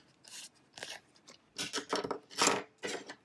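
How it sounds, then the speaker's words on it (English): Scissors cut a small piece of craft vinyl for decorating wine glasses, making several crisp, close snips in uneven bursts with short pauses between. "Got my scissors. So I'm just gonna cut this little piece up here off."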